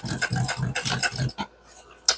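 A Singer 291u1 industrial sewing machine stitching fabric for a crossbody bag, a few short mechanical bursts of rapid clatter close by, separated by pauses and ending with a sharp click.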